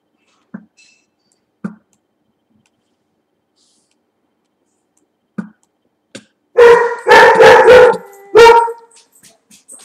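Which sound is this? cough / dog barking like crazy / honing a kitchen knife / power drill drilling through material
dog barking like crazy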